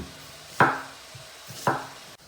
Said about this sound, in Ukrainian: Поки смажиться м'ясо, півкільцями нарізаю цибулю.